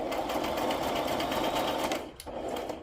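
A sewing machine runs a zigzag stitch through paper pages, a loud, close, steady mechanical whir with rapid needle rhythm that briefly drops out near the end before restarting.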